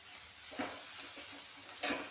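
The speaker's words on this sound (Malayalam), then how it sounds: "മഞ്ഞൾപ്പൊടി ഇട്ട് ഇളക്കുക" Turmeric being stirred into fried onion and tomato for a chicken curry, soft constant sizzling with two brief scraping stirs of a spoon, close and fairly quiet.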